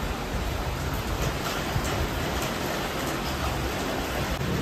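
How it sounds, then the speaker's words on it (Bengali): Heavy rain pouring down in a steady, dense hiss that stays constant throughout without any break. "কি জোর বৃষ্টি হচ্ছে গো"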